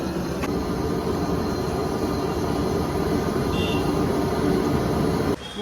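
A helicopter flying overhead near Guwahati produces a loud, continuous low rumble with rapid rotor-like pulsing, holding steady for about five seconds before cutting off sharply.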